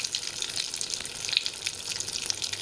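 Chickpea dal pitha frying in a pan on very low heat, a continuous close crackling sizzle with no talk.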